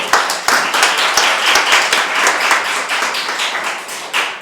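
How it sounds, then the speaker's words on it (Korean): A small group of classmates claps after a team presentation, with sharp, distinct hand claps ringing out close by at an uneven pace and gradually blending into a looser patter. "뭐해 박수 안 치고 박수."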